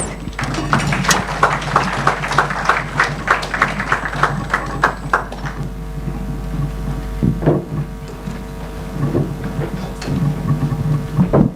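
Audience claps as panelists take their seats at a Kenyan farmers' federation annual general meeting; a burst of clapping over a low steady hum fades out after several seconds, leaving room hum and scattered small sounds.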